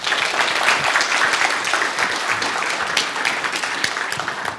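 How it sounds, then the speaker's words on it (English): At a technical conference, an audience gives a speaker a steady round of applause, many hands clapping densely and continuously, fairly loud, without speech on top. "Ladies and gentlemen, a round of applause for Bdale Garbee"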